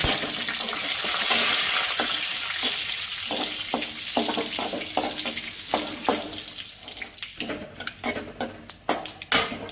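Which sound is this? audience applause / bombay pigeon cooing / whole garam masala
whole garam masala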